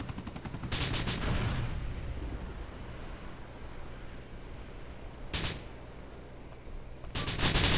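Bursts of gunfire from Grand Theft Auto IV, a volley at the start, a single shot midway and another burst at the end, set over a steady low engine-like rumble that suggests a helicopter or boat chase.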